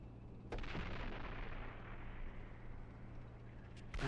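Video game artillery fire near a volcano, a sustained rumbling barrage with a sharp burst at the start and another near the end, dense and fairly distant.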